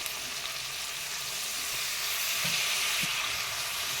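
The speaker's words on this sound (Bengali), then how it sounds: "ভেজে নিচ্ছি ভালোভাবে আমার ভাজা হয়ে গেছে এইবার আমি দিয়ে দিচ্ছি হলুদ গুঁড়ো" Bata fish sizzles steadily in hot oil in a pan as turmeric powder is added, a continuous close frying hiss with a few soft stirring knocks and no talking.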